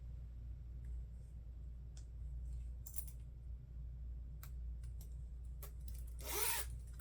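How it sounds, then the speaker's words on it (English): Zipper on a handmade crossbody bag being worked as a pull is fitted, giving quick scratchy bursts of zip teeth, the longest and loudest near the end, over a low steady room rumble with no talking. "Add our zipper pull on the same way we did earlier."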